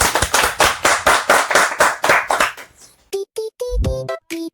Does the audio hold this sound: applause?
yes